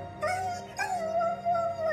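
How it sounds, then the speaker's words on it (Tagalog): A dog yelps in pain, two sharp cries that stretch into a sustained, strained whine. It is close and fairly loud, with no talking. "Doon halos kumalas ang puso sa dibdib ko nang mapakahol ang aso dahil sa sakit."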